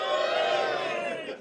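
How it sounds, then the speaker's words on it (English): Comedy club audience at a live stand-up show cheering and whooping together, a loud, dense crowd roar held steadily before starting to fade. "Give me a cheer if you think I look like James Corden."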